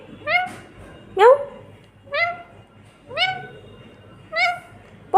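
A pet parrot imitates a cat's meow, giving five or six distinct, loud, close meow-like calls spaced about a second apart with nothing else in between.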